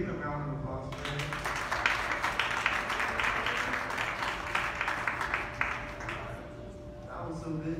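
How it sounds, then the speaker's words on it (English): Church audience at a Christmas youth show breaks into a dense wash of applause that rises after a second, holds for several seconds, then tapers off, with voices talking under it. "give a round of applause for him?"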